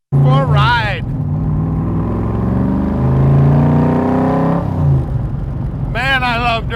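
A 1965 Shelby Cobra Backdraft engine roars through its exhaust while driving, loud and close, with a steady droning pitch that swells and eases, and sharp revving bursts at the start and end.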